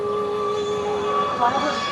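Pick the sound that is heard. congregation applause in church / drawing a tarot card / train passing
train passing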